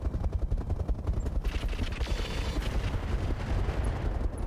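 Mech weapons fire in the RogueTech BattleTech video game as a dense, continuous barrage of loud booming blasts and rumbling impacts, with no talking.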